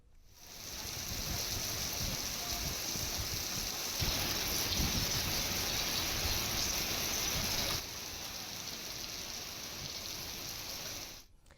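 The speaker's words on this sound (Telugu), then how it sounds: "పంజాగుట్టల్లో కుండపోత వర్షం కురుస్తోంది" Heavy downpour pours steadily over Panjagutta in Hyderabad, a dense hiss of rain that swells louder through the middle and eases slightly near the end, with no voices.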